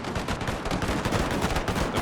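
Rapid rattling volley from mitrailleuse guns in a Carlist War battle in the Total Fots strategy game, dense overlapping shots in a continuous loud burst with no talking.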